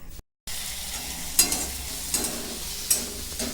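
Mixed vegetables with capsicum and cabbage fry in a pan with a steady sizzle, broken by a brief silent gap near the start and several sharp stirring scrapes; no talking.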